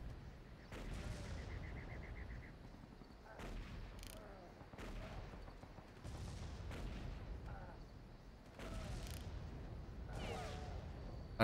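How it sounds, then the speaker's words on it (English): Enemy gunfire in the Far Cry video game cracks out in several sharp bursts spaced a second or two apart over a rumbling battle backdrop, with a voice occasionally talking. "Alright, he's shooting at me now."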